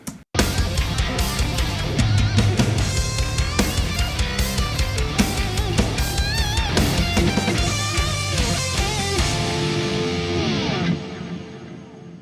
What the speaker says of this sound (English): so lead guitar sounds like this